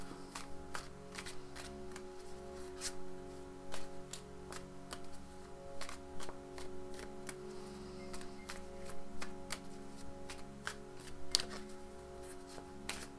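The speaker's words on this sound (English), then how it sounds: "give me a second to just shuffle these cards up" Soft, steady riffling and light tapping of tarot cards being shuffled, quiet and close, with a low background hum and no talking.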